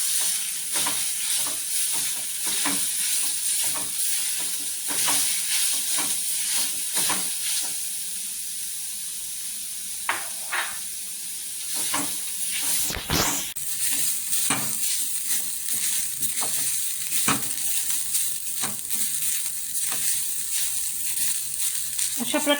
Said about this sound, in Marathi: अशा प्रकारे आपण आता खोबरं थोडं गुलाबीसर भाजून घेणार